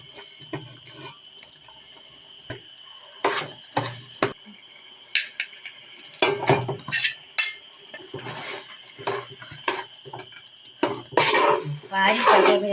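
Mashed plantain with cardamom and cumin being stirred in a pan, repeated scraping and clinking of a utensil against the metal in uneven bursts, close by, with a voice talking through much of it.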